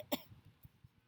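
A single short cough, quiet and close, is followed by a few soft low thumps, with no talking.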